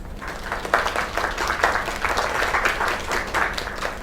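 A crowd applauds a singer's performance: a dense wash of many hands clapping with a few stronger bursts, steady and fairly close, with a low hum beneath.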